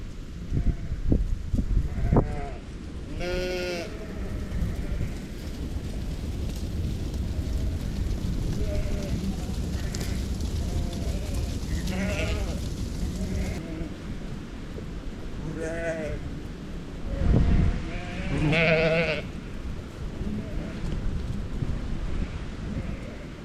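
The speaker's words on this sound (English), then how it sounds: "I think there's 8 rams in with these, so it's time to move them into some green grass" Sheep and rams in a small farm paddock on a large property bleat repeatedly, several calls near and farther off, over steady wind-like rumble and a voice speaking.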